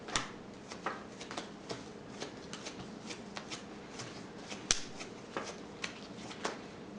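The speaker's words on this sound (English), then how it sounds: "I can't shuffle tonight, apparently." A deck of cards is shuffled up close, a run of quick, crisp riffling clicks and snaps in irregular bursts, fairly quiet.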